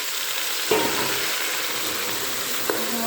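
Chopped vegetables frying in a pan with onion, green chilli and curry leaves give a steady, close sizzle, broken by two short scraping stirs, with no talking.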